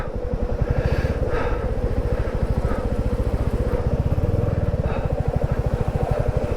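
A motorcycle engine thrums steadily and close while riding a rough gravel off-road mountain route in the Himalayas toward Gunji, its rapid firing pulses continuous throughout.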